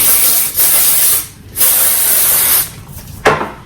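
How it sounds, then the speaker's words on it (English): Three loud, close bursts of aerosol hair texture spray onto hair, each a sharp hiss lasting about a second, with short pauses between and no speech. "I'm just gonna spray her. I was using the new Air Texture Spray."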